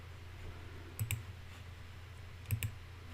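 A computer mouse clicking, two quick double clicks about one and a half seconds apart, close and crisp over a quiet low room hum, with no talking.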